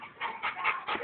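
A pit bull makes a short run of soft, close whimpering yips, four quick pulses in about a second with no talking.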